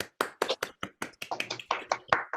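Scattered claps from an online audience that has unmuted after an evening poetry conversation, a quick, uneven run of separate hand claps close to the microphone, sounding like a few people at their own computers rather than one massed crowd.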